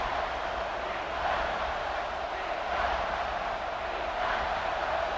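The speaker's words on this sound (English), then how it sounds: "The crowd getting behind this defense as they try to get a stop in the red zone." Stadium crowd at a football game cheering for the home defense during a red zone stand, a broad sustained roar at moderate distance with no break in the noise.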